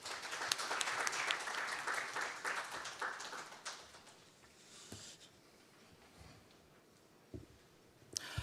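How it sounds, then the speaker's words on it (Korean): Audience applause at a financial crime prevention seminar, a dense, fairly faint wash of clapping filling a hall for the first few seconds, then thinning and fading out into near quiet with a few scattered claps. "뜨거운 박수 부탁드리겠습니다."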